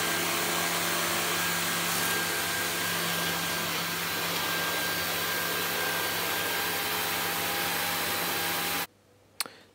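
A Dyson DC39 vacuum cleaner with its turbine head runs as a loud, steady whine and roar for about nine seconds, then cuts off abruptly, leaving a short quiet gap with one faint knock near the end.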